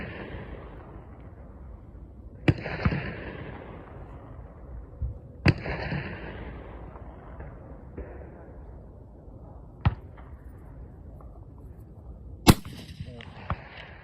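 Rifle shots fired outdoors in a shooting contest: about four sharp, loud cracks spaced a few seconds apart, each with a trailing echo over steady background noise.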